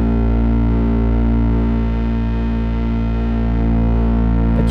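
Behringer 2600 synthesizer holding a loud, sustained, harmonically dense tone as its voltage-controlled filter slider is raised, growing slightly thicker and more saturated, steady and upfront with no talk.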